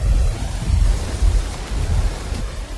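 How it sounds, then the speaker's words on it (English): Heavy tropical wet-season rain in North Queensland pouring down in a dense, steady roar with deep low rumbling throughout, loud and unbroken, with no voices. "The rain falls hard."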